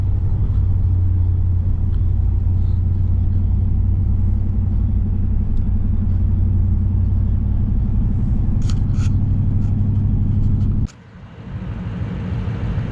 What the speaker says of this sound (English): Kind of upshift. Yeah, upshift, Chris.